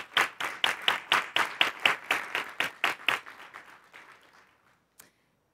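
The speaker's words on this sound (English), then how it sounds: "And a round of applause for this group of students." Applause at a school board meeting for a group of students, starting with about a dozen loud, evenly spaced claps that thin out and fade, with one last lone clap near the end.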